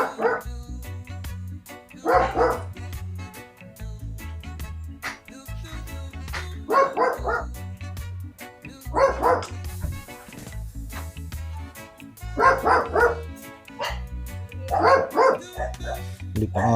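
A dog at a house for sale in Tagaytay barks in repeated bursts of two or three loud, close yaps, spaced roughly every two to three seconds over a low steady hum.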